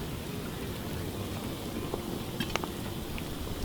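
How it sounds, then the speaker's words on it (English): A soft, even sizzle of popcorn kernels heating in oil in a pot hisses steadily, with a couple of faint crackles near the end. "I can hear it sizzling in there."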